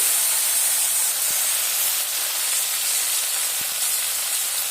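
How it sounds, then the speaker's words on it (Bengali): Vegetables for vegetarian khichdi fry slowly, giving a steady bright hiss of sizzling oil, even and unbroken, with a couple of faint knocks. "সবজিগুলো আস্তে আস্তে আমি ভেজে নিই।"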